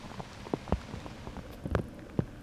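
Rain falls steadily on an outdoor disc golf course during a tournament round, a soft continuous patter broken by a few sharper drop impacts and knocks, with no talking.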